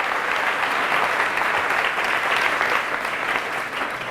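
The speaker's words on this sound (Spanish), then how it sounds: "Fuertes aplausos al Rey de Reyes y al Señor de Señores" A church congregation at a Catholic Mass claps loudly and continuously, a full, even roar of many hands that tapers slightly near the end.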